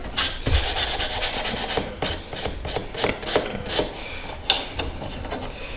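Rhythmic rasping strokes of 400-grit sandpaper rub a burr off the back of a metal thumbpick blade, repeated scrapes close up and fairly loud, with no talking.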